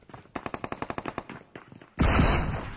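Gunfire in the mobile shooter BGMI: a rapid automatic burst of about a dozen evenly spaced shots, then a short gap and a loud, sustained blast that slowly decays.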